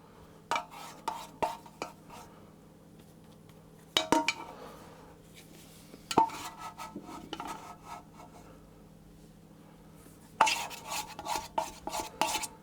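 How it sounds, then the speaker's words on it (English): Proved dough being scraped out of a bowl onto a lightly floured surface, intermittent clinks and scrapes of a utensil against the bowl with quiet rubbing between bursts, no voices. "I'm going to take it out of the bowl and put it onto a lightly floured surface"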